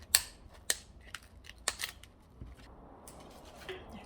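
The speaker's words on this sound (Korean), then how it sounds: "남아 있는 길이가 이제 더 길게 되는 철사를 리퍼를 이용해서 이렇게 잘라주겠습니다" Sharp snips of nippers cutting thin wire while making a crepe-paper lotus lamp with LED bulbs: three crisp clicks spaced about half a second apart, then softer handling rustle, close and clear with no talk.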